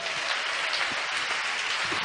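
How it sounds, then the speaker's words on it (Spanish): A church congregation claps together during a sermon, a steady dense patter of many hands that stays even and moderately loud throughout. "Dele un aplauso al Señor en esta hora"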